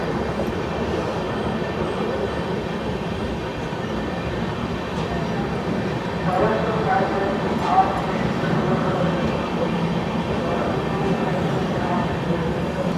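Vivek Express passenger train rolling through Rampurhat Junction without stopping, a steady broadband rumble of carriages from on board, slightly louder in the second half, with some talk in the background.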